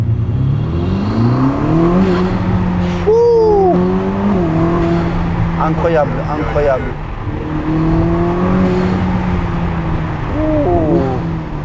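A 1000-horsepower Ferrari accelerates hard, its engine rising in repeated revving sweeps through the gears, loud and close, while a man exclaims over it.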